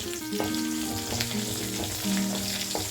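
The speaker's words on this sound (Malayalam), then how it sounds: "ഇതൊന്ന് വഴന്നു വരുന്ന വരെ നമുക്കൊന്ന് ഇളക്കാം." Slit green chillies frying and being stirred in a pan for masala dosa, a steady close sizzle with several scraping stirs of the spoon against the pan.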